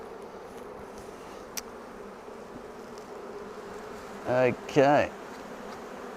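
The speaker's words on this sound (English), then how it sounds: "the bees are getting a little agitated here" Honey bees buzz at an opened hive on a grey, rainy day, a faint steady hum that swells into two loud, close buzzing passes near the end; a voice speaks briefly.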